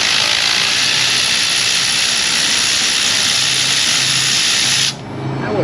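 A loud, steady power tool whine, such as an impact wrench, runs continuously while removing worn spark plugs in an auto repair shop, then cuts off sharply near the end, leaving quieter shop ambience.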